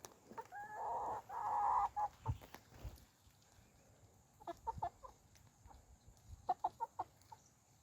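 Young Lavender Orpington chicks give soft, scattered clucks and short peeping calls in a quiet coop, a few clustered bursts with gaps between them.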